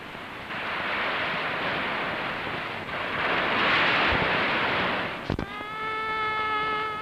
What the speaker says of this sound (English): Now, only the sound of breaking waves is heard.